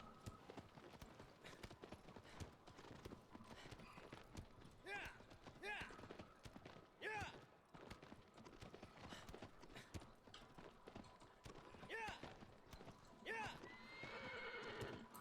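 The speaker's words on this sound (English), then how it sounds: "Just go, you stupid horse." A horse in Shadow of the Colossus (2018) galloping with steady rhythmic hoofbeats, broken by several shrill whinnies, heard at low level under a person talking.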